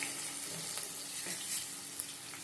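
Onions, green chillies and curry leaves fry in a pan with a steady, dense sizzle and occasional stirring, close up and continuous, with no voices.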